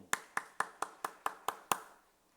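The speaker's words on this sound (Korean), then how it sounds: "박수로 영광입니다." Eight evenly spaced, crisp hand claps ring out in a church during a Sunday worship service, each sharp and separate, sounding like a single clapper or a small tight group rather than a whole congregation, with no talking.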